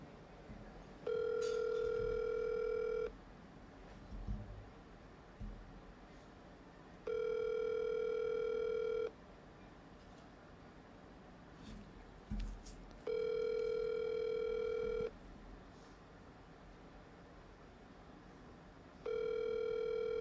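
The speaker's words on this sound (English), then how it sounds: "Pick up the phone." Ringback tone of an outgoing phone call: four steady two-second tones, each followed by about four seconds of quiet, over faint room hiss with no talk.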